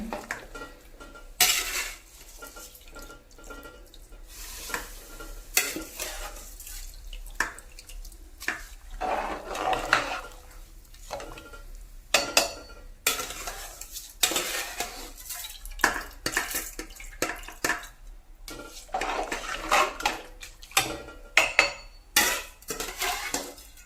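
Rice is poured into a home-kitchen pot and stirred with a metal spoon, giving close, irregular bursts of scraping and clattering against the pot that continue throughout, with no talking.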